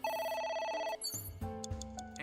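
Electronic phone ringtone in the video game AI: The Somnium Files, a bright tonal melodic trill followed by a lower repeating ring, loud and clear with no talk over it.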